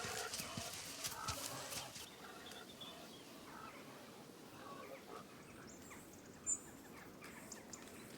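Ponies moving through an ancient forest produce faint hoof clops and rustling under steady ambient noise, with birds calling and one sharp brief sound toward the end.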